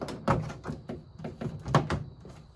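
Plastic clips of a flexible aftermarket door panel being pushed into a 1973-79 Ford truck door, a quick series of close, dull thunks and soft knocks in an irregular rhythm.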